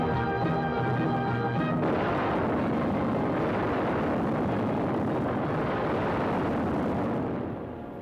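Bombs bursting after release from a bomber in a classic war film, a loud sustained rumbling roar of explosions that starts abruptly after a brief tonal hum and fades slightly at the end.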